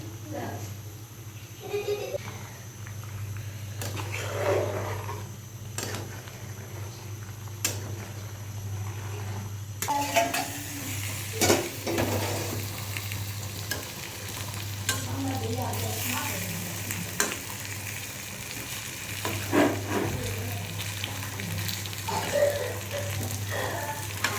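Ground spice paste of cumin, cinnamon, cardamom and clove frying and being stirred in a pan, a steady sizzle with intermittent scraping of the spoon, while a person talks over it.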